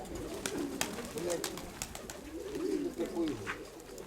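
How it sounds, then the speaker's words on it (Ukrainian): Soft, repeated pigeon coos rise and fall across the clip, with occasional sharp clicks and faint background noise. "Отакий голуб"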